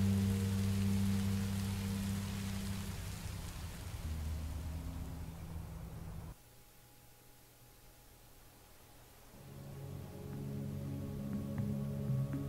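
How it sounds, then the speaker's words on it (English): Steady rain falls in a Minecraft Story Mode scene, a continuous hiss of rainfall on surfaces that dips quieter midway and swells again, with low droning tones underneath. "Rain is better than monsters."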